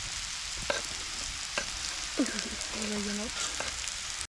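Potatoes and hunting sausages fry in a pan outdoors with a steady loud sizzle, punctuated by a few clacks of stirring and a brief murmur of voice.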